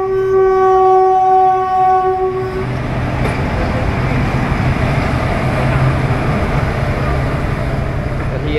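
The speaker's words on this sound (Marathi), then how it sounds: "ही आहे आपली मालगाडी जी कणकवलीवरून सावंतवाडीला जायला क्रॉस झाली आहे" A goods train passes Kankavli station, its horn sounding in steady tones at first, then giving way to a loud, continuous rumble and clatter of wagons rolling close by.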